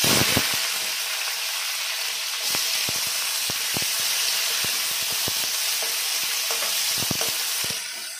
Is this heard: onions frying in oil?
yes